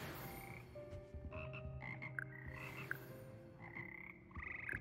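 Magical frog choir in Hogwarts Legacy, a group of slimy frogs singing together in six voices: tonal, melodic croaks rise and overlap in a gentle, clear chorus heard alone.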